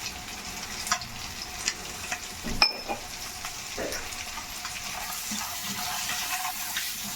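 Eggs frying in a pan with turmeric, chili powder and salt for a dhaba-style cashew egg masala curry, giving a continuous close sizzle broken by a few spatula scrapes and clinks, with no talking.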